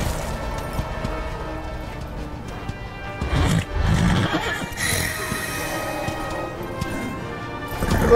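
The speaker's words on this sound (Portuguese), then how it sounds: "Agora tem um cavalo, mano." A horse neighs in the game Darksiders, a loud whinny rising out of dense game music and effects, with crashing impacts around it.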